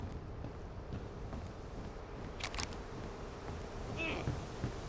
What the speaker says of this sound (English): Sounds like a bunch of bees.